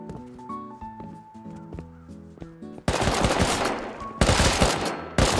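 Rapid automatic gunfire in Rust bursts in loud and dense after a stretch of quieter game sounds, firing in sustained volleys with brief breaks between them.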